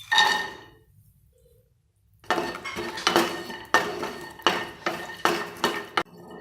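Walnuts roasting in ghee in a pan for dry fruit laddu, stirred with loud, close metallic clatters and scrapes in bursts after a short quiet gap, with no talking.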